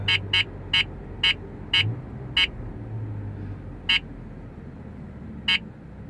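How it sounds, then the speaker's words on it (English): A radar detector in a moving car sounds K-band false alarm beeps, a series of short, sharp electronic chirps in irregular clusters over a low, quiet road hum. "These are K-band false alarms,"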